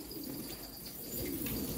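Pigeons coo softly in a low, murmuring rhythm, faint and somewhat distant against a quiet outdoor background.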